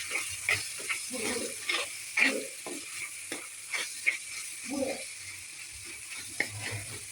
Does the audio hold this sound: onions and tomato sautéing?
yes